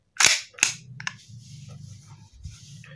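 A WE Beretta M9A1 Special Edition gas blowback airsoft pistol, full metal, fires two sharp close shots in quick succession, followed by a softer click and a low mechanical hum.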